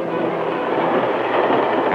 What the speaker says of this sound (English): And here's our modern trailblazer, Southern Pacific Swift Streamlined Daylight, most beautiful train in America.